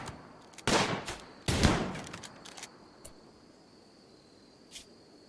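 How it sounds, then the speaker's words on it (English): Revolver shots in the RimWorld video game, two sharp cracks close together followed by a few lighter pops and a faint late report over a quiet hissing background. "Been shot in the left leg and the right leg by Vaughn with the revolver"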